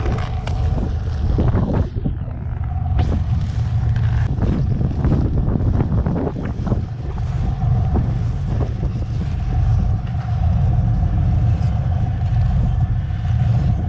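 Storm wind buffets the microphone on a mountain, a loud continuous roar with heavy low rumble and gusty surges throughout.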